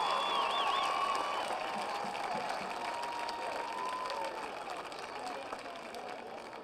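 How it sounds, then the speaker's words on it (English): A football crowd applauds and cheers in a stadium, giving sustained clapping with whistles and shouts that slowly fade over several seconds. "Let's give a nice round of applause to these folks for making the difference."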